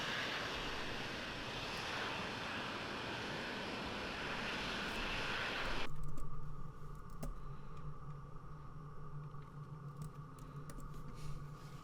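A jet aircraft taxiing to park in the Falcon 4.0: Allied Force flight simulator, a loud steady engine roar that abruptly drops to a quieter whine and hum, with faint clicks of keyboard typing over it.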